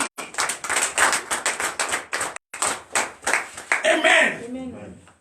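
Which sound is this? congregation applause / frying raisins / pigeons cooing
congregation applause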